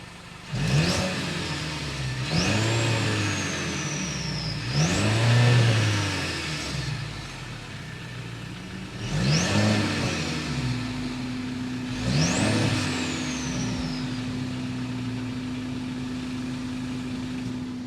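A 2022 Mercedes-Benz C300's turbocharged engine revs repeatedly, its exhaust rising and falling in several sharp bursts with a whistle on top, settling into idle between.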